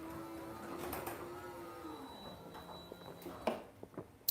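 A Ryobi garage door opener runs in a garage: a faint, steady motorized whine with a tonal hum, then a few clicks and clunks as it stops.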